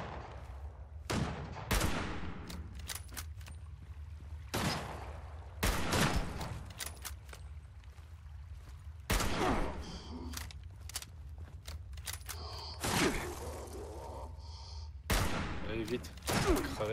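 Bursts of video game gunfire are aimed at a creature and come in repeated volleys with short gaps, mixed with footsteps and other game effects while a player talks over the action.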